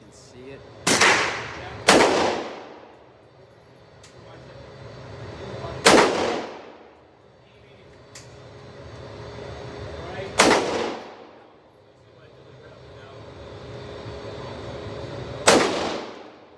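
Five gunshots from a gun at a shooting range, sharp loud cracks spaced irregularly several seconds apart, each with a short decaying echo, over a faint background murmur.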